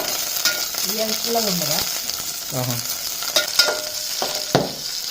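Green chilies from a home garden crackle and sizzle in hot oil, with steady frying hiss, several sharp pops and spatters, and brief low murmurs of a voice in between.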